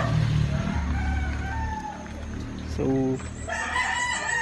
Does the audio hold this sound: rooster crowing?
yes